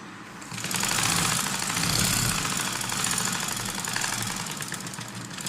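A sewing machine stitches a shirt seam, running as a steady, continuous mechanical whir with a fast repetitive needle rhythm, close and fairly loud, with no talking.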